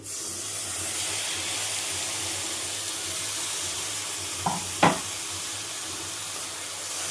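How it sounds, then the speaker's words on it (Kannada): Onion masala fries in a pan for egg masala before tomatoes go in: a steady, moderately close sizzle, with a couple of brief knocks or clinks near the end and no speech. "ಇಷ್ಟು ಫ್ರೈ ಆದಮೇಲೆ ಈಗ ಇದಕ್ಕೆ ನಾನು ಟೊಮೆಟೊ ಆ್ಯಡ್ ಮಾಡ್ಕೊತೀನಿ."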